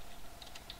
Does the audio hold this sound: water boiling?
no